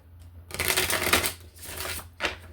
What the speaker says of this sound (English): We'll give these a shuffle and then we'll add a couple cards.